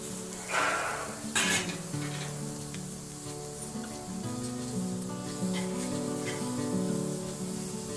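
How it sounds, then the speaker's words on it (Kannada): Leftover idli fingers fry in oil over a medium flame, a steady close sizzle with brief louder crackling bursts early on, no talking. "ಸೊ ಮೀಡಿಯಮ್ ಫ್ಲೇಮ್ನಲ್ಲಿ ನೀವು ಇದನ್ನು ಫ್ರೈ ಮಾಡ್ಕೊಳ್ಳಿ"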